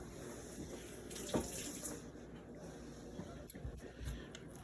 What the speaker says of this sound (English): So I'm just gonna rinse that off quick.